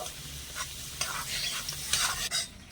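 Whole spices and chopped ginger fry lightly in a pan on the stove. A steady close hiss runs throughout, broken by scraping stir strokes, with no voices.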